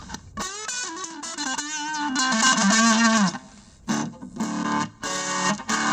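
Distorted electric guitar through the blues distortion setting of a Boss ME-30 multi-effects pedal, with a warm, bluesy crunch, plays sustained bent notes and chords, then choppy stabs separated by brief gaps.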